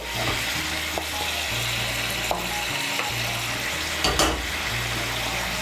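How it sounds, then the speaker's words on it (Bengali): Fried onion crisps being stirred into a simmering okra curry in a pan, with a steady sizzle and repeated scraping and stirring strokes, close and continuous. "পাপড়িগুলোকে মিশিয়ে নেব।"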